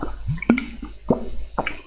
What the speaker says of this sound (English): drinking water. I'm so thirsty.